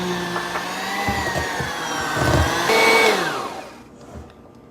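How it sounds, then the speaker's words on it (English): Electric mixer whirring through cream cheese frosting, a steady motor drone that swells louder near the end, then cuts off and leaves a quiet tail. "mix this until it's as smooth as you can possibly get it"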